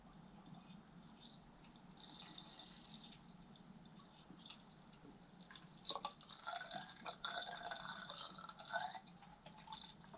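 Coolant water trickles and gurgles as it is poured slowly into a Kawasaki Z800 motorcycle radiator filler, growing louder and bubblier midway with faint background hum.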